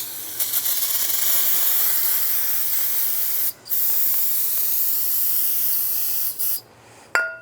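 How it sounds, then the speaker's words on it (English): Brake parts cleaner hisses steadily from an aerosol can onto the engine timing cover of a 2007-2013 Chevy Silverado, one long close spray with two short breaks before it stops. "take some brake parts cleaner and a rag and just wipe down the surface area where the gasket's gonna seat"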